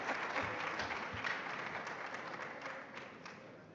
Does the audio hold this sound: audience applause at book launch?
yes